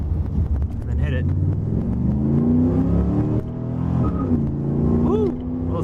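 A car with a TH700 (700R4) automatic transmission and a new transmission mount, accelerating hard in second gear on a street, its engine note droning and rising steadily, loud and close, with someone talking over it.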